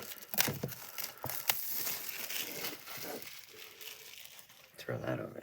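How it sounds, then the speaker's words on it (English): Packaging being peeled and cut off the box of an Apple HomePod Mini, giving irregular crinkling and tearing bursts close up, with brief pauses and a voice speaking between them. "I gotta cut the bottom open. So we just go, that works, and then we just peel this off"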